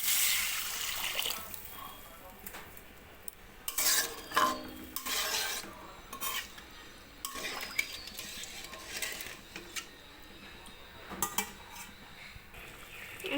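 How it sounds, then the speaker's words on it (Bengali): Potatoes and spices in a cooking pan for a Bengali puti fish curry, with water being added: soft clinks of utensil against metal and wet scraping and stirring, intermittent and close, with occasional louder bursts. "দিয়ে দেবো পরিমাণ মতো জল"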